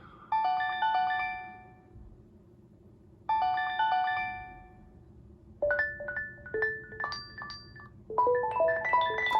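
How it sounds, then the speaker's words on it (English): A Google Pixel phone plays bright, chiming ringtone melodies in repeating phrases. The phrases pause briefly between them, then switch to a busier tune, loud and clear with no other sound. "I click onto the ringtones and it is being downloaded from the internet and then playing."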